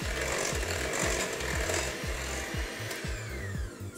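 An electric hand mixer whirs loudly and steadily through cake batter with egg in a bowl, its motor droning with rhythmic low knocks and scrapes as the beaters circle the bowl.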